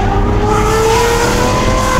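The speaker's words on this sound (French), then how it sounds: "c'est un échappement à valve, donc en fait, il s'ouvre un certain régime" A Lamborghini Aventador SVJ fitted with a Gintani valved exhaust roars loud and close, a sustained high-revving wail with rising tonal pitch filling the whole short burst.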